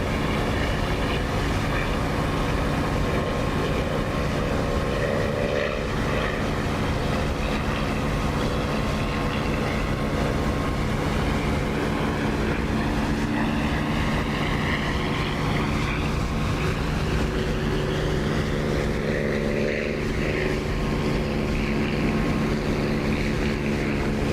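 A constant, droning propeller aircraft engine hums steadily in flight in the DCS flight simulator, loud and unbroken, with faint tonal shifts and no voices.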